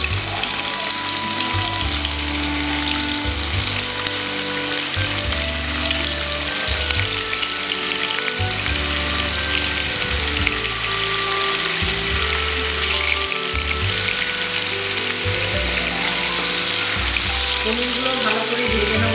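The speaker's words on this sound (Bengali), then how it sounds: "পনিরগুলো ভালো করে ভেজে নেব।" Paneer cubes frying in hot white oil in a kadai for palak paneer, a loud, dense, continuous sizzle up close with a low, steady hum beneath, no talking.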